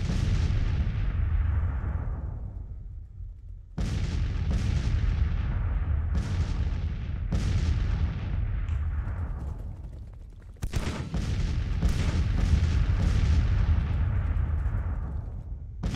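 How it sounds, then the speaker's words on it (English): Heavy artillery fire in Grand Tactician: Civil War during an 1862 Confederate campaign battle: a series of loud cannon booms, each rolling and decaying before the next, with about five distinct blasts over a continuous rumbling background. "Gonna have a ton of artillery firing on this guy now."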